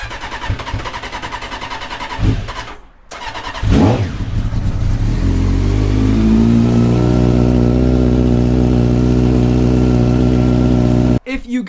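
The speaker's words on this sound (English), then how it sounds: "at least we got a cold start on the CBR 600" Honda CBR 600 F2 motorcycle cold start: the starter cranks and catches, a few sharp blips of revving follow, then the engine settles into a loud, steady idle until it cuts off near the end.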